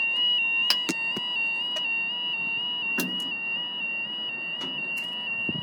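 A level crossing alarm at Elsham, North Lincolnshire sounds a steady, piercing electronic tone that carries on throughout, with scattered clicks and knocks over it and no voices.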